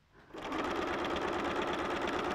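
Domestic sewing machine running steadily and close, stitching two layers of quilting fabric for a log cabin quilt with feed dogs drawing the bottom layer, a continuous rapid mechanical whir after a brief quiet start.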